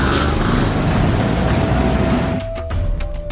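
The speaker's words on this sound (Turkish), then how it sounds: "Ortadansa inanılmaz yoğunlukta bir trafik akıyor." Dense road traffic in Lahore, a steady, loud roar of engines and vehicle noise that fills the whole clip, thinning slightly near the end as a few passing hisses stand out.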